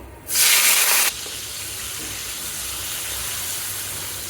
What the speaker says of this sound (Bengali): চিংড়ি মাছগুলোকে হালকা একটু বেজে নিব